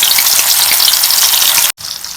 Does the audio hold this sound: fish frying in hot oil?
yes